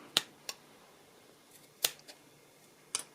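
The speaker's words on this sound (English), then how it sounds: "And so I'm just going to trim right along here." Sharp scissor snips cut quilt binding fabric, four or five crisp, quiet cuts at an uneven pace in an otherwise silent room.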